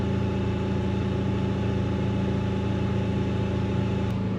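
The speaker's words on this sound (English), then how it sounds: "fire the generator up" A portable generator engine runs at a steady idle-like drone, close and continuous with even vibration throughout, no talking.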